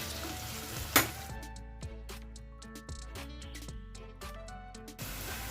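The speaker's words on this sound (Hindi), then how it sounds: "प्याज को अच्छा गोल्डन ब्राउन होने तक" Onions sizzle quietly in a hot pan as they fry toward golden brown, with a few light clinks and stirring scrapes over the steady frying hiss.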